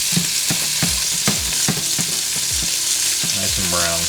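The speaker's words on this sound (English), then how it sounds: "Searing on that one side, and you can see what it looks like there." Salt-and-pepper-seasoned short ribs sear in a smoking-hot old family pot that doesn't sit quite flat, giving a loud, constant close sizzle with a few soft knocks and scrapes underneath.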